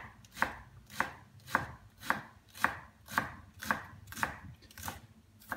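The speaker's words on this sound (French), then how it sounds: "Et je les coupe fin." A knife finely chopping shallots on a board: about ten evenly spaced, crisp thuds at a steady unhurried rhythm, close and clear with no talking.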